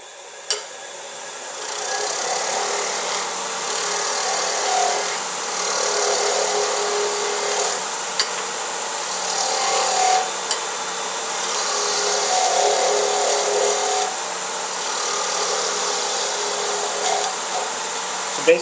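Wood lathe turning a wooden knitting needle as the cut goes deeper, a steady close whirring hiss of the tool on the spinning blank, continuous with faint small ticks and no talk.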